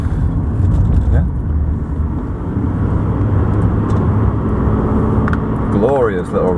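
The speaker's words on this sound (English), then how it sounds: "Glorious little rumble there." Rumble of a Jaguar XJ40 engine, a steady low growl that holds close and loud throughout, with a brief whine near the end.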